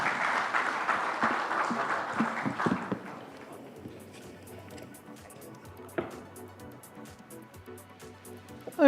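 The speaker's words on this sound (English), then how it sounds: "A round of applause, ladies and gentlemen, for Shri Ashish Sood" An audience at a real estate conclave claps loudly for a few seconds, then the applause thins out and fades to quiet.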